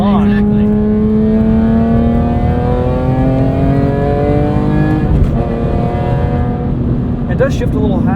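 A 2005 BMW E46 M3 Competition, track-prepped with a six-speed SMG gearbox, revs up with a rising engine tone, then briefly drops on a quick gear change and climbs again, heard from inside the car with people talking over it.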